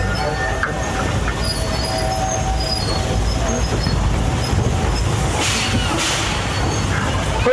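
A Roaring Camp & Big Trees narrow gauge railroad train rolls along with a loud continuous rumble and brief wheel squeals as it approaches the depot, with a voice speaking over it.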